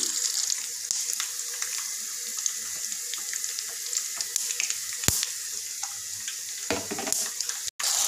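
Chutney in hot tempering oil with curry leaves hisses with steady sizzling throughout, with occasional louder crackles and a brief clatter near the end.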